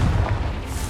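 A Confringo spell blast in the video game Hogwarts Legacy gives a loud, dense, rumbling boom that fills the whole short moment without pause.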